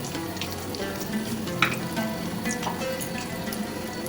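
Whole spices such as bay leaf, dried red chilli, cumin, mace and cardamom fry in hot oil for Bengali chicken kosha, with a continuous crackling sizzle and scattered pops close up.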